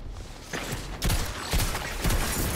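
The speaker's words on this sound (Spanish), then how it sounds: "este revólver me encanta." Revolver hand cannon shots in a video game, three heavy booming blasts spaced about half a second apart, loud and close, each followed by a short rumbling tail.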